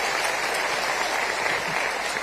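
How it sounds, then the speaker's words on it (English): A room of university students at a town hall meeting bursts into dense, loud clapping, continuous and steady with no talking over it. "Let me propose a round of applause for all those who gave wonderful suggestions."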